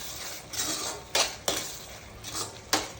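A spoon stirs chili powder and salt into chicken frying in a pan, giving a soft, steady scraping with several sharp metal knocks against the pan, close and without talk.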